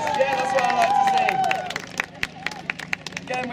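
Audience at an All Saints School concert event cheering and shouting for a school band, with crowd noise and scattered claps that grow sharper and more distinct toward the end.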